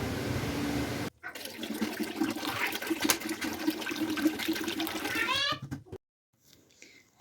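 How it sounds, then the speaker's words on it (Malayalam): About 10 litres of water rushes loudly into a container for several seconds, rising in pitch as it fills, then stops abruptly and leaves quiet room sound. "നമുക്ക് വെള്ളം പിടിക്കാം"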